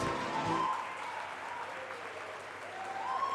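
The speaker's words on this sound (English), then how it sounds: "let's have one huge round of applause for every single student who has graduated" Applause from a graduation ceremony audience honouring students receiving postgraduate and graduate degrees, a steady wash of clapping that holds fairly even throughout, with a short low tone near the start.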